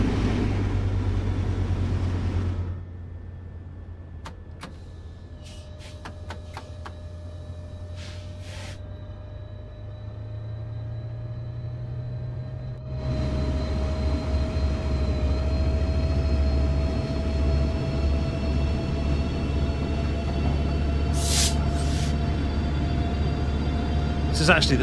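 Diesel passenger train in Train Sim World 4 on the Antelope Valley Line: low engine drone drops away, then returns louder with a rising traction motor whine, punctuated by a few brief clanks and hisses.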